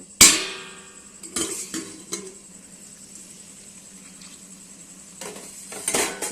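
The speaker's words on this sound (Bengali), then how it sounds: "এবার আমি ঢাকনাটা খুলে দেখব" A metal lid comes off a cooking pot of hilsa posto with a sharp clang, followed by a few faint clinks and scrapes over a low background hum and a final cluster of metallic clatter near the end.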